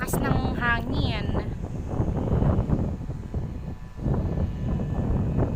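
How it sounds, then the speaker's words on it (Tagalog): Strong wind buffets the microphone in a continuous loud rumble outdoors near buildings, with someone talking briefly at the start. "Lakas ng hangin."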